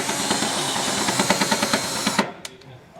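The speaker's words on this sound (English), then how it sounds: "I'm going to go ahead and drill this out with a pilot hole." Power drill boring a pilot hole into the steel frame of a 2016 Winnebago Spirit motorhome, a steady close whine with rhythmic chattering bursts for about two seconds before cutting off, followed by a couple of clanks.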